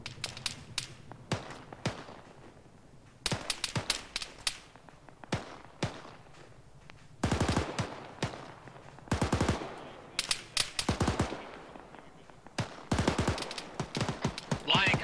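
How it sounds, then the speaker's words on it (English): Distant enemy gunfire in ARMA 3 crackles in repeated bursts of rapid shots, sharp automatic rattles spread across the whole stretch, some volleys louder and denser than others. "That is definitely fucking enemy fire"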